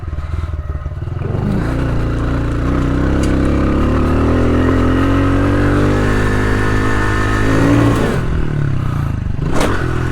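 A pit bike engine revs during warm-up, rising and falling through several loud close throttle swells before dropping back near the end.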